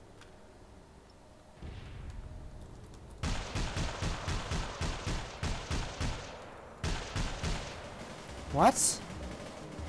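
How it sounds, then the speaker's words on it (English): Gunfire in APB Reloaded, a long run of rapid, evenly spaced shots that pauses and resumes in a shorter burst, with a voice speaking briefly and a sharp whistling hit near the end. "I just shot Super Fuzz with so many bullets, dude."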